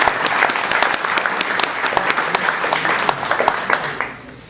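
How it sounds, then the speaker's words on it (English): Audience applause at a citizens' group annual meeting at Salisbury Beach: a full, steady round of clapping from many people, close and loud, with crisp individual claps popping out before it fades near the end. "Let's give Haley a round of applause as well."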